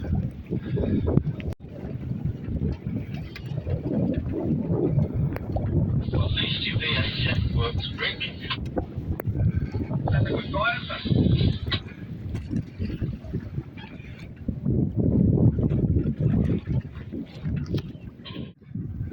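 Gusty wind roaring over a sailboat out on an offshore run, a constant rushing buffet with stronger gusts, while a person talks over it.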